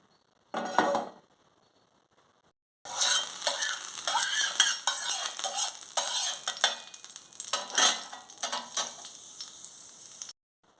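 Fish pieces sizzle in hot oil in a flat pan, preceded by a brief clatter, then a sustained crackling fry with bursts of louder spitting and utensil clinks, close up and without speech.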